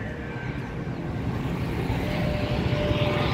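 A propeller airplane passes overhead near a cemetery beside a road and military camp in Nairobi, a steady engine drone that grows slightly louder and holds throughout with no speech.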